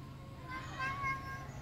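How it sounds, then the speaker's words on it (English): A cat meows a couple of times near a temple on a mountain on Koh Pha Ngan, Thailand, with soft high cries rising over low background hum and outdoor ambience. "Hi, kitty."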